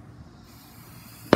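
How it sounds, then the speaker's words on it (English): A big Fourth of July firework bursts once near the end with a sharp, loud crack, after a stretch of low outdoor rumble and faint background noise. "And a big firework just went off at that moment."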